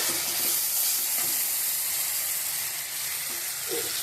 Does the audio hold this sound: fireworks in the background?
no